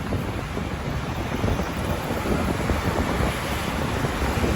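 Strong, steady wind before a storm roars across the microphone, a dense broadband rush with gusting swells and low buffeting, no voices present.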